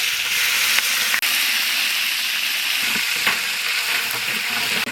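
Spices such as fenugreek, mustard seeds, cinnamon, cardamom and curry leaves fry in hot ghee with coconut in an outdoor village kitchen, giving a loud, steady sizzle with a few sharp crackles and pops, no talking.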